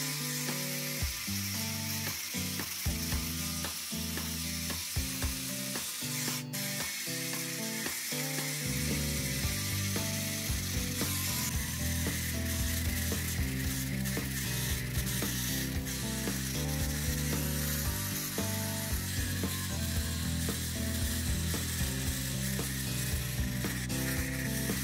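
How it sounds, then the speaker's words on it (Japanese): A tool scraping rock off an ammonite fossil, likely a Hyphantoceras, during cleaning, giving a steady close grinding rasp with rapid ratcheting texture that runs the whole time and gets denser after the first few seconds. "まだ見えてないところをとにかく削ってみたいと思います"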